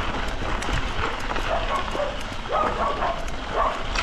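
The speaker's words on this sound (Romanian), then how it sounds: "Că mă latră." Dogs barking at a delivery rider out in city traffic, several sharp yips and barks over road noise, fairly close, while someone talks.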